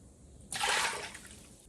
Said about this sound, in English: So the very first thing we need is 2 cups of warm water.